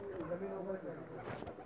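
A domestic pigeon kept by a Pakistani fancier gives a brief, soft cooing phrase of a few low, wavering notes close by, with a voice talking over it.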